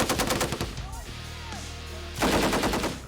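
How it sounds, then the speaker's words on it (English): An M240 machine gun fires in bursts during a Marines live-fire exercise, loud rapid reports opening the clip, a brief lull with ringing echo, then another sustained burst, close to the listener. "Gunners adjust their elevation and keep firing."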